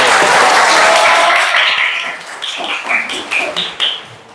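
Classroom applause after a student group presentation: a burst of many hands clapping that thins out into scattered claps, with children's voices and chatter rising over it.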